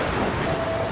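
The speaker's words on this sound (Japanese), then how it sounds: "あ、雨か" Rain in the game Dragon Quest Builders 2, a dense steady hiss of falling rain with a faint rumble beneath, brief and continuous with no voices.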